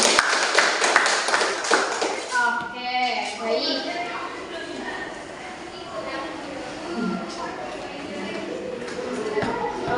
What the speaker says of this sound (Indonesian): Tepuk salut untuk Mbak Alifian.